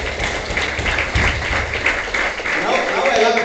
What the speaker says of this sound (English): give a big hand of applause for Kaushik